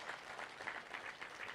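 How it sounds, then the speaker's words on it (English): Brief, faint applause from an audience, light steady clapping heard from a distance. "Let's give him a round of applause"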